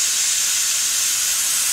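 Brake cleaner aerosol sprays onto a printed roll-up sign in one continuous, close, loud hiss lasting the whole moment.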